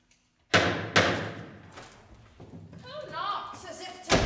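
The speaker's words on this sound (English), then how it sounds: "Who knocks as if to batter down the bar?" Heavy knocks on a door at a stage performance of The Taming of the Shrew: two loud thuds close together, then voices speaking, and one more sharp knock at the end.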